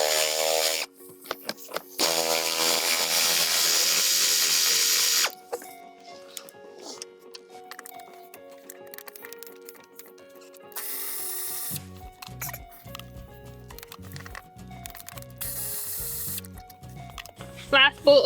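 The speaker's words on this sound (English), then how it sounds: "There's two bolts back here, 14mm we're gonna take out." A ratchet loosening the 14mm bolts that hold a Toyota Highlander back seat, clicking in quick repeated bursts close to the mic, with other mechanical noise between the runs.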